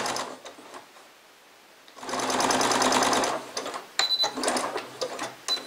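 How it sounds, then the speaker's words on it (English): A home sewing machine backstitches a seam on a fabric Christmas wine bottle cover: soft handling noise, then a fast close whirring run of needle clatter for about two seconds, followed by short stop-start bursts. "Start by backstitching."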